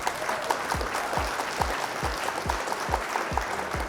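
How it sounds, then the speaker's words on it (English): Applause for opposing players after a card game match, a steady wash of clapping at moderate level with regular low thumps recurring under it throughout. "Round of applause for our opponents"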